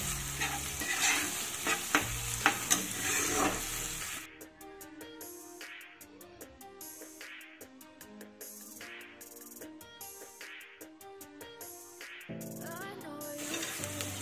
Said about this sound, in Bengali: টমেটোটাকেও সুন্দরভাবে ভেজে নিতে হবে।